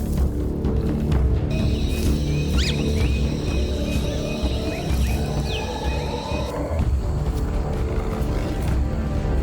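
A tiger charging through an Indian jungle gives a deep, rumbling roar that swells over dense wild ambience, with a thin high whine laid across the middle.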